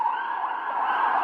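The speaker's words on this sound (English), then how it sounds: "You can hear the sirens in the background." Emergency vehicle sirens wail steadily at night in Jerusalem, a continuous mid-pitched tone heard at moderate distance in the background.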